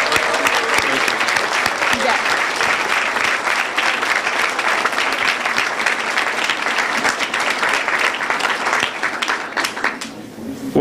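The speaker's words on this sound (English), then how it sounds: "let's give them a round of applause for our 7th grade students" A school board meeting audience gives sustained applause for 7th grade students, a dense, steady wash of clapping filling the room for about ten seconds before tapering slightly at the end.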